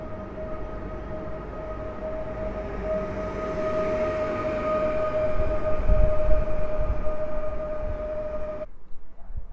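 An Elf electric multiple-unit train pulls away from Sosnowiec Główny station with a steady tonal motor whine and rising rumble. The sound grows louder as it moves off and cuts out abruptly near the end.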